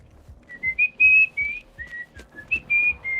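A person whistles a tune, a clear melodic line of short and sustained notes with small gaps between phrases, close and alone with no talk.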